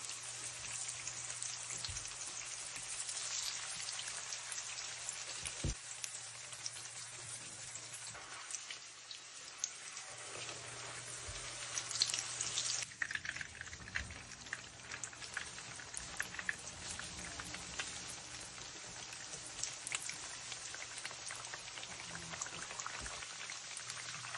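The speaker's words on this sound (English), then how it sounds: "Sizzle them in hot oil until golden brown and crispy on both sides." Steady crackling and hissing of meat pies (chebureki) frying in hot oil, a dense sizzle that stays fairly even throughout.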